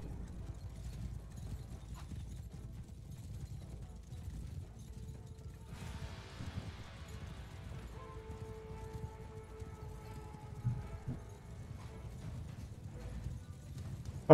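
Horses clip-clop at a gallop in the video game Mount & Blade II: Bannerlord, a faint continuous rumble of hooves with distant clatter and a brief metallic ring midway.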